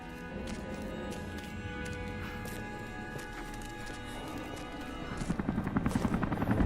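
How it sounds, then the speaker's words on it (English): Helicopter in Rise of the Tomb Raider, a continuous rotor drone throughout that grows into loud, rapid rhythmic blade chopping near the end as it passes close, with game music and ambience underneath. "Command Post 2, last chopper outbound."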